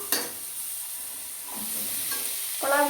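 Capsicum frying in a pan during pasta preparation: a steady bright sizzle punctuated by a few scraping stirs, loud and close, with no talking.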